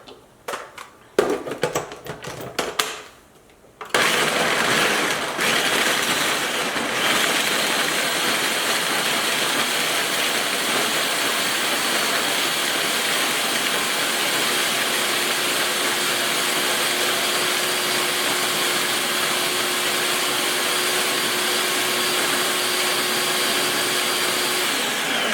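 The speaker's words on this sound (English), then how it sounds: "But you want to blend it until it forms a sticky paste." A Ninja Professional 1500-watt food processor blends energy ball ingredients for cranberry vanilla energy balls, roaring loud and steady after a few rough starting pulses, close up, with no talk over it.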